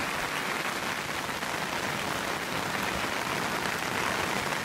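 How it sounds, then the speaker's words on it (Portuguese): Rain falls steadily at a river port on the Miranda river, a dense, even hiss of drops with no breaks or voices, moderately loud and close throughout. "Olha a chuva pra vocês verem"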